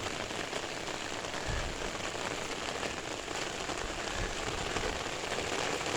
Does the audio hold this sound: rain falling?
yes